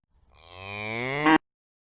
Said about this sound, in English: Now comes the cow.